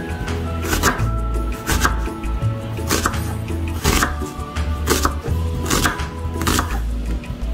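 An onion being sliced into julienne strips with a knife on a board: steady, evenly spaced chopping taps, loud and close, repeating over a low background hum.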